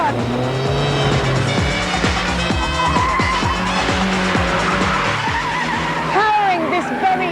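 An Ariel Atom with a 1.8 litre K-Series engine drives hard, the engine note rising and falling through repeated gear changes with tyre squeal, loud and close, while someone speaks over it.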